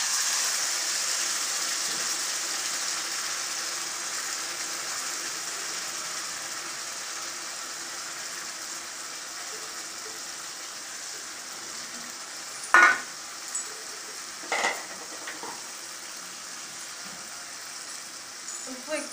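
Spices and ingredients eased into hot oil in a village kitchen, giving a steady, fairly loud sizzle and crackle throughout, with a few sharper clinks and knocks of a utensil near the end.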